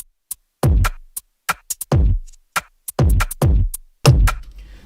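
Drum beat in FL Studio after processing on the drum bus: punchy, louder kick and snare hits with crisp hats in a syncopated groove, fuller and more compressed, with no voices over it.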